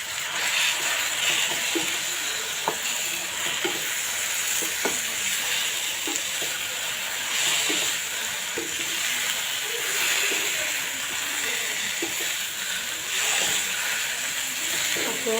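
Taro leaves cooked village-style in a hot pan give off a steady, loud, close sizzle and hiss for the whole stretch, dotted with light clicks and crackles.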